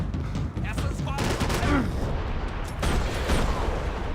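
Gunfire from the video game Max Payne 3: loud, repeated shots and bursts in a chaotic firefight, with dense blasts throughout and a voice partly audible under the action.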